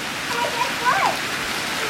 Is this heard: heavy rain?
yes